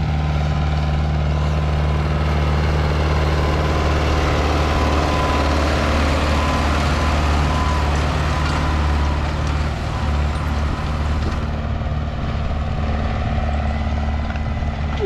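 MTZ-80 tractor fitted with a front axle drive unit, discing ground ahead of ploughing with a disc harrow, its diesel engine droning loudly and steadily with a constant low hum, no talk.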